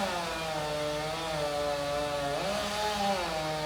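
Chainsaw cutting through a section of a 120-foot pine being removed, engine droning loud and close with a steady tone that drops briefly as the bar bites deeper, no voices.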